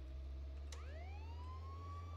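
A police car siren in the video game Contraband Police starts up with a single rising wail that swells and holds steady over a constant low engine drone, fairly faint.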